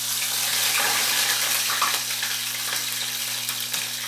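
Pieces of fish breaded in wheat flour hit hot oil in a pan, setting off a loud, steady crackling sizzle with small pops, heard close and without talk.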